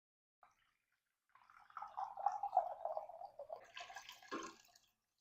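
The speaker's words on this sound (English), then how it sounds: "I've already added 2, and then I'm just going to add 2 more" Water is poured into a pot to make pickling brine for red onions, a soft trickling stream of about three seconds that swells and then ends in a brief splash, heard alone without talk.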